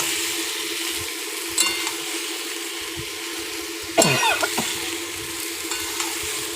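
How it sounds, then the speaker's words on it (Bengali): Fish and potato pieces stir-fried in spice paste in a pan, giving a steady close sizzle with scraping stirs and a louder clatter of the spoon midway. "আবার কষানো শুরু হয়েছে"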